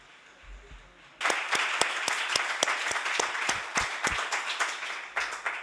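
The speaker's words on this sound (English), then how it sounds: "So let's give them an applause" An audience at a Casa Árabe event bursts into clapping after a second of near quiet, then holds a steady, lively round of applause with distinct claps until the end.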